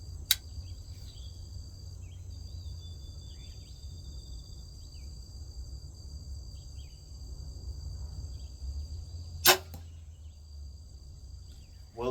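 Crossbow bolts fired offhand from 20 yards into a BlackOut four-sided target, two sharp, sudden impacts several seconds apart over a quiet outdoor background of steady chirping crickets.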